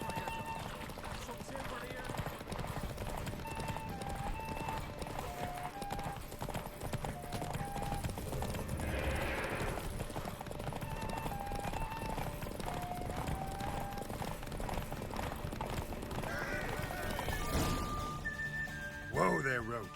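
Rhythmic hoofbeats of the horse Roach galloping steadily in The Witcher 3, a continuous clip-clop over ambient game music, with brief voices near the end.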